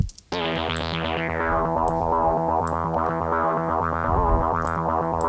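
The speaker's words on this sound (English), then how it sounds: "Self-oscillation." A sustained, buzzing synthesizer tone from a self-oscillating filter, with a resonant whistling edge, loud and continuous after a brief quiet start, with a slight swell near the end.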